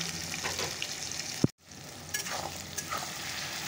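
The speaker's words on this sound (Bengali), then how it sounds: "পেঁয়াজ রসুনটাকে একটু, টমেটোকে একটু ভালো করে কষিয়ে নিই" Onion, garlic and tomato sauté with a little salt in a pan for a meat dish, a steady close sizzle with stirring scrapes, one sharp clang partway through and then a brief hush before the sizzling resumes.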